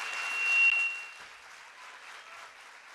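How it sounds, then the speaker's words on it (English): An audience claps for the Premier of KwaZulu-Natal at a smart province launch event, a soft, fairly distant patter of applause that swells briefly and then settles into lighter, steady clapping. "let's welcome her with a round of applause"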